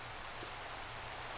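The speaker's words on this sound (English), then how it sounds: "Oh good, now it's raining." Steady rain falling in a video game, an even wash of hiss with no breaks across the short span.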